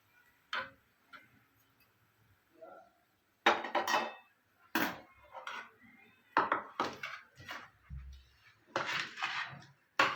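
A spoon clinks, taps and scrapes against a bowl while amla (Indian gooseberry) chutney with garlic is stirred together, in irregular close clatters with brief pauses between strokes.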